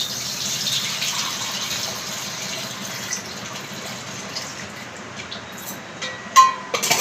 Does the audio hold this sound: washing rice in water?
yes